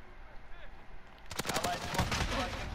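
Gunfire in a video game shooter, starting after a quiet moment as a quick run of loud, close shots that rattle on to the end.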